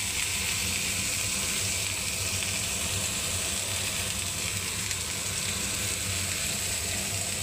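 Beans and capsicum hit hot oil in a pan and sizzle with a loud, steady hiss that holds evenly throughout.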